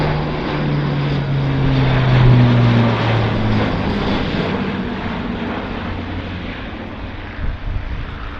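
An Airbus A400M Atlas transport aircraft flying a display at the RIAT 2017 airshow, loud sustained turboprop roar with droning propeller tones that swell and slowly fade as it passes.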